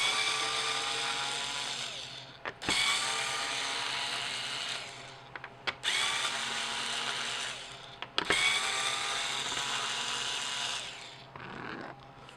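A small Harbor Freight 4.8 volt electric screwdriver whirs loudly while removing bolts during a Gottlieb pinball machine restoration, running in four long buzzing bursts separated by brief stops and clicks.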